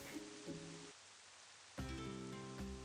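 Rain falls as steady broadband hiss in visual novel game ambience, a brief quieter gap midway before the wash returns alongside soft musical tones.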